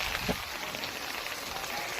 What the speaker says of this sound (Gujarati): વરસાદ આવે એક ધારો વરસાદ ચાલુ છે